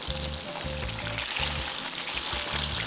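Thin pieces of chicken frying in hot oil for Malaysian night-market style crispy scissor-cut chicken, giving a steady close crackling sizzle with a low rumbling bed underneath, no voices.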